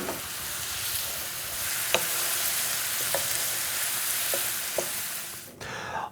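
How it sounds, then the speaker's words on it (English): Pears sizzling as they cook in a pan, a steady soft frying hiss throughout with a few faint clicks of stirring, quiet and close. "Now we're going to let this cook for 4 or 5 minutes until the pears are lightly browned"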